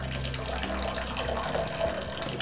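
Water runs steadily through a portable instant water heater that is switched on, giving a constant close rushing flow with a faint underlying hum, alone and without talk.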